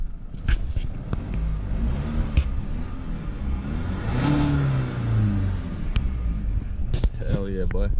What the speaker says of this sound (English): The revs are jumping way quicker, so that's so much nicer to shift down and stuff.